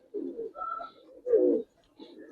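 A female giribaz pigeon gives three or four close, soft coos in quick succession, each a short throaty burble separated by brief pauses.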